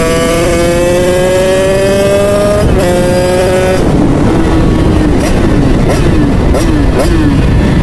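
A motorcycle revs hard on a ride out with friends, its engine note climbing in steady rising sweeps, briefly breaking, then dropping after a downshift into rougher, burbling blips, loud and close.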